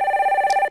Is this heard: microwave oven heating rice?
no